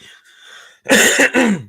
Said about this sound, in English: pardon me, my coughing